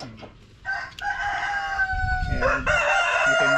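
On a small backyard poultry setup, a rooster crows loudly and close in two drawn-out calls, while chickens cluck softly in short bursts underneath.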